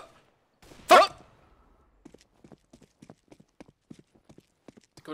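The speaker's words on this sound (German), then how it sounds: "Ich fahr mal auf meinem Pferd zu." A sharp thud followed by a steady series of light hoof clip-clops, a horse in Counter-Strike: Global Offensive walking at an even pace, fairly close and clear.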